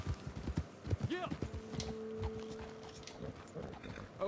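In the Red Dead Redemption video game, horse hooves clip-clop in a quick rhythm at moderate distance. A voice talks over part of it.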